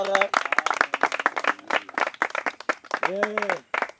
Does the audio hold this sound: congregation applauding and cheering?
yes